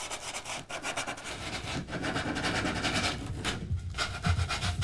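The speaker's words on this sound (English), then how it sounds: "I'm just going to sand off any burred edges and give us a better radius." Sandpaper rubs back and forth over freshly cut wood to smooth burred edges, a continuous close scratchy rasping with rhythmic strokes and no talk.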